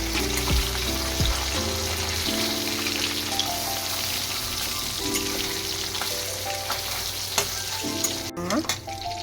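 Fish and leucas curry bubbles and sizzles in a pan as it is stirred, a continuous close frying hiss broken by scraping spoon strokes and a sharp knock near the end.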